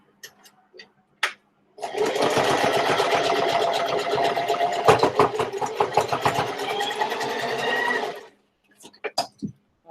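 A sewing machine stitches a zigzag along fabric edges in one steady, close run of roughly six seconds, framed by a few faint clicks and handling sounds before and after.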